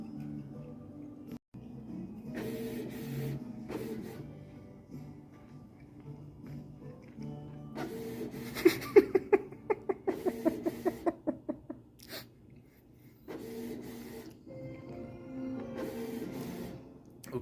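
A printer runs in a quiet room, its mechanism chattering in a rapid burst of clicks and rattles midway before settling back into a steady hum.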